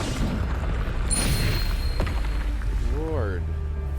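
A Bombarda spell explodes in Hogwarts Legacy with a single heavy boom and crackling burst, followed by a short rising magical whine over a low rumbling game soundtrack.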